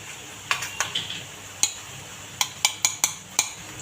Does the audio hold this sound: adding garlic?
yes